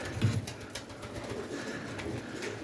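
Pigeons coo softly during an evening check of the birds, making low, rounded calls close by over a steady background murmur with no speech.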